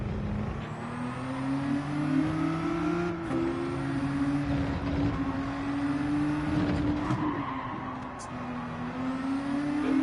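Race car engine in Gran Turismo 7 holding a steady high drone with a small rise and fall as revs shift, broken by a brief dip at a gear change. A voice talks faintly underneath.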